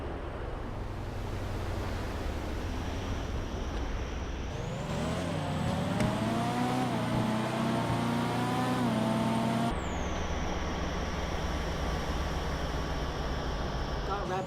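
A Toyota Supra race car in GTA 5 revs its engine, its tone climbing and holding steady before dropping, heard loud and continuous with a game soundtrack running underneath.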